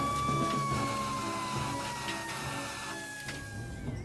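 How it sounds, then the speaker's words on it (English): Fire brigade sirens wail at a blaze, several rising and falling tones layered together, fairly close and steady with rumbling traffic underneath. "the wail of sirens filled the air"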